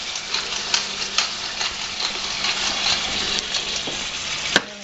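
Thin-sliced steak for Philly cheesesteak frying over medium-high heat with cracked pepper, a steady close sizzle broken by soft stirring and tossing clicks, ending in one sharp knock.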